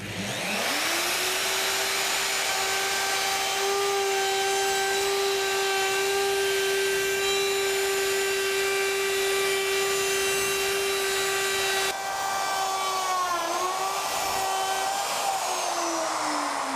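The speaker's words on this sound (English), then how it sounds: "Now I've trimmed it around with a router, it's left a lovely neat radius in there." A router trims wood around the door opening of a small garden shed, giving a steady, loud high-pitched whine that holds for over ten seconds before briefly dipping and recovering as the cutter moves through the cut.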